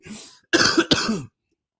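A single person coughs: a short hoarse burst, a brief pause, then two harsher coughs close together, up close with no talking.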